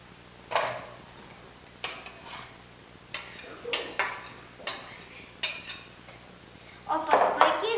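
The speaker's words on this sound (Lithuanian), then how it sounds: "Pirma dedame obuolius." Chopped apples dropped into a fruit salad bowl, giving a series of soft clattering knocks and scrapes of pieces and utensil against the dish, spaced a second or so apart, ending with a busier clatter.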